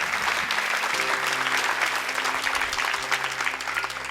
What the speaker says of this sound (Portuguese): Dê um aplauso bem forte aqui.